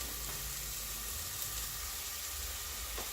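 Chopped onion sizzling in a hot pan for homemade spaghetti sauce, a steady bright frying hiss with low bubbling underneath, close and continuous throughout.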